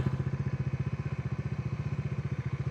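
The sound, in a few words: Bajaj Dominar 400 motorcycle being parked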